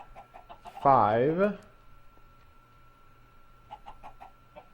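Chickens inside a Minecraft TerraFirmaCraft chicken house, one loud drawn-out squawking cluck up close with soft clucks before and after, while a man counts aloud.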